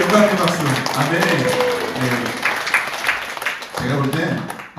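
A church congregation applauds in praise during an anniversary celebration, a moderate wash of clapping that rises and falls over several seconds, with voices speaking throughout.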